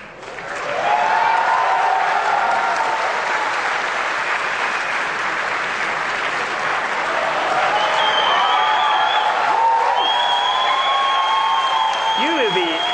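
A large audience cheers and applauds steadily at a Nintendo Revolution console presentation, a dense continuous roar of clapping and whoops lasting throughout, with a presenter's voice cutting through near the end.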